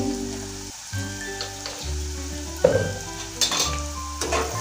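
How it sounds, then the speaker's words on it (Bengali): Onions frying in oil in a pan give off a steady, moderately loud sizzle with occasional stirring clatters, while sustained low tones hum underneath throughout. "এবার পেঁয়াজটা লাল করে ভাজতে থাকবো"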